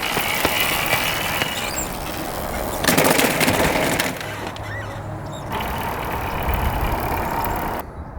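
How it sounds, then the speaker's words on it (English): A 2-stroke dirt bike engine, in poor running condition after a bump start, rattles and sputters loudly at close range in uneven bursts before cutting out. "Engine sounded a little rattly there"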